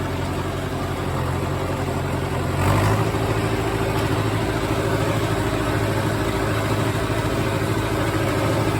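A tractor engine runs in second gear while baling hay, a loud, close, unbroken mechanical drone with a slight swell in the middle. No voices.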